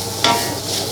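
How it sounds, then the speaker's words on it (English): Rice noodles frying with tofu and egg for pad thai give a short, close burst of sizzling with a quick stirring scrape, lasting under a second. "We fry until noodle becomes soft"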